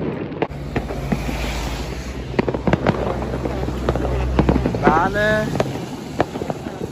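New Year's fireworks and firecrackers go off in a European city, with scattered sharp bangs and crackles at a distance under a person speaking, plus a brief whistling rocket near the middle.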